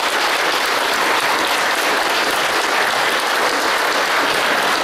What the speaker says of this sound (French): et vous pouvez applaudir largement Jean-François Marcel.